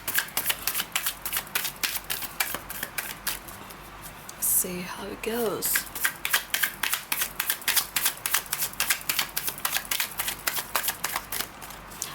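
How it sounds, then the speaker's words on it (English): Tarot cards are shuffled close up in a rapid run of papery riffles and slaps, with a brief pause as a voice speaks in the middle. "I love to shuffle my cards in front of the camera"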